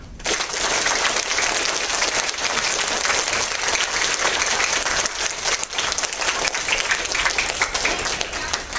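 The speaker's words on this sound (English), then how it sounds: "I'd like you to applaud now." A school audience at a mock trial performance breaks into loud, sustained applause, a thick crackling wash of many hands clapping at close range that holds steady for nearly nine seconds.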